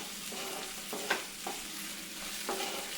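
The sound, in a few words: stirring okra frying in a pan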